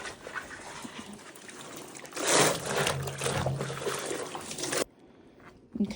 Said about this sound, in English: just keep going along the fabric and rinsing it